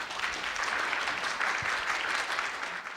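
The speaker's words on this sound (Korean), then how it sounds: "큰 박수로 환영해 주시기 바랍니다" Audience members clap steadily to welcome a presenter at a university academic affairs session, a moderately soft, even patter of applause lasting the full few seconds with no voices.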